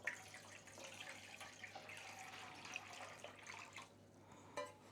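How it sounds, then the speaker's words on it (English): Water is poured into a large bread pan resting on a kitchen scale, giving a faint, continuous splashing trickle with a low background hum throughout. "And I'm going to pour this water in."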